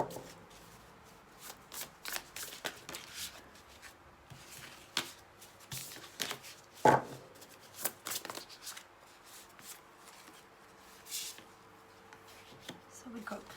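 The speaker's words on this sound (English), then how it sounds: "Let's get one more oracle card." Oracle cards are shuffled by hand during a pick-a-card tarot reading: soft, irregular riffles and slides up close, with a few sharper card snaps, while a person talks quietly in between.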